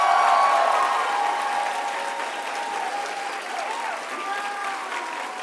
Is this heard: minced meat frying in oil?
no